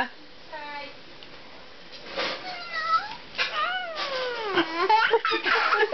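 A pet kitten meows repeatedly in rising, wavering cries, close by, while a young girl and an adult talk and coo over it at home.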